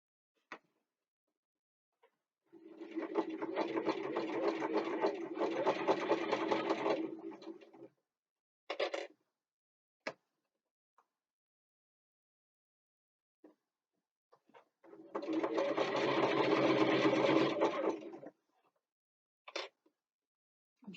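A sewing machine stitches fabric for a bookbag backpack in two sustained whirring runs of several seconds each, separated by quiet gaps with brief clicks and short bursts, heard close with no talking.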